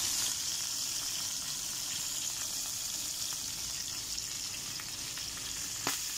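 Dried milkfish, daing na bangus, fries in hot oil with a steady crackling sizzle and scattered pops of splatter, close and moderately loud throughout, with one sharper pop near the end.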